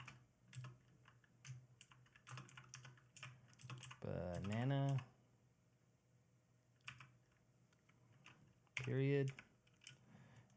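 Computer keyboard typing, soft scattered key clicks in short runs, with brief stretches of someone talking in between.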